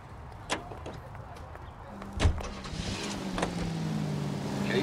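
A car is driven in the video game L.A. Noire, with a low engine hum and a rising tone as it pulls away, plus a couple of sharp door-like thumps near the start, no talking.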